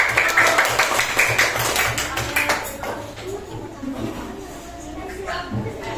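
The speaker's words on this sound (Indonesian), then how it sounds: "Kasih tepuk tangan buat kelompok 1" Third-grade pupils in a classroom clap for a group: a dense burst of many small hands clapping for about two seconds, then fading into classroom voices and chatter.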